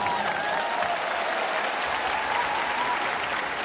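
Loud, dense applause from an audience filling a hall, continuous clapping from many people without pause.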